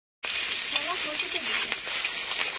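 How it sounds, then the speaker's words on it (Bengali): Prawns fry in a pan in a home kitchen, giving a continuous bright sizzle and crackle, close and steady, with faint background voices or clatter beneath the hiss. "চিংড়ি মাছ ভাজা হচ্ছে এখানে"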